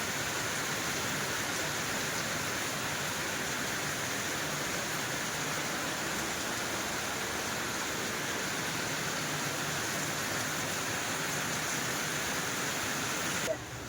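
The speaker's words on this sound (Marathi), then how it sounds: "पाऊस किती जोरात पडतो" Heavy rain pours down in a dense, unbroken roar that stays constant for the whole stretch, loud and close, with no voices.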